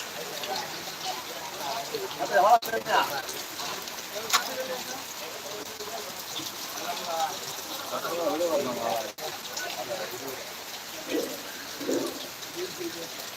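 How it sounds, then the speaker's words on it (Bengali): Heavy rain hisses down continuously over a market, with occasional bird calls faintly audible beneath the downpour. "প্রচন্ড বৃষ্টি হচ্ছে দেখুন"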